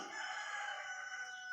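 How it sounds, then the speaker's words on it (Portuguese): Roosters crow in a rural setting, one long drawn-out call filling the clip at moderate distance over quiet background. "Estão ouvindo os galos cantando?"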